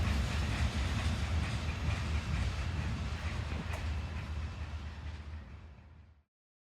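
A Norfolk Southern local freight train on the Valdosta District in Georgia rumbles past close by with a steady heavy roar and clattering wheels, fading slightly before cutting off.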